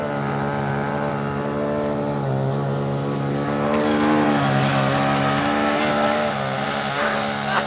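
An electric ducted fan F-22 Raptor model plane in flight, a steady high whining fan tone with strong harmonics, holding constant and swelling slightly louder midway as it passes, with no voices.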